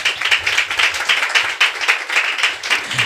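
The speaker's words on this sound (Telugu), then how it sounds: "చప్పట్లు కొడతారా?" A church congregation at a Sunday service claps together, a steady dense patter of many hands that holds throughout at a fairly loud, close level.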